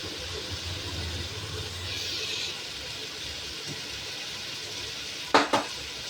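Food fries in oil in a pan for an egg and potato curry, a steady close sizzle with occasional stirring, then two sharp clinks of utensil on pan near the end.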